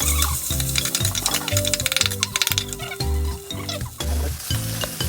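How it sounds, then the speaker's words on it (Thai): Minced pork stir-fries with chopped garlic in a hot oiled pan, a loud steady sizzle broken by repeated rhythmic scrapes and clanks of a spatula against the pan, close and with no talk. "เอาหมูสับลงไปผัดกับกระเทียม ผัดไปเรื่อยๆจนหมูสุก"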